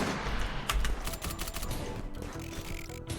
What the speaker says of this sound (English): they need to stop shooting at these guys